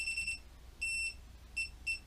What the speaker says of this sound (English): it just does those beeps